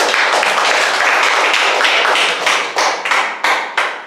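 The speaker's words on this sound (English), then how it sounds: "give an applause for Dr. Emmanuel" An indoor dialogue-session audience applauds in a dense, steady burst of close clapping that thins into a few separate, louder claps at the end.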